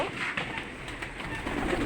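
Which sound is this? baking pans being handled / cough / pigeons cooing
pigeons cooing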